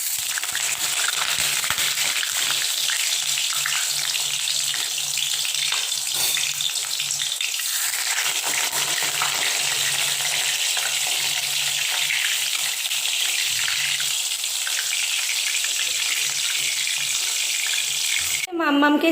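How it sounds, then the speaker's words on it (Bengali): Eggplant slices fry in a pan on a home stove, giving a loud, steady sizzle that runs unbroken throughout, with a faint low hum beneath. "আর এই পাশে হচ্ছে এখন আমি বেগুন ভাজবো"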